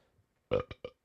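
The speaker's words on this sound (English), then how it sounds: "Yeah, we burp in this stream." A single short, loud burp breaks into two or three quick voiced pulses, close up and otherwise quiet.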